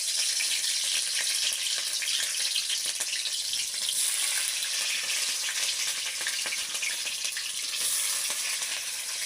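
Onion and chili tempering for a potato and chickpea curry sizzles loudly and steadily in a hot pan, a continuous bright hiss with no talking.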